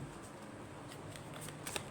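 Tarot cards are drawn from the deck in a close, soft flurry of papery rustles and slides, with a few light snapping flicks near the end.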